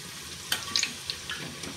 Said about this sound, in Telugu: ఇలా బాగా కొంచెం ఎర్రగా వచ్చేంత వరకు వేగనిచ్చాలండి నూనెలో.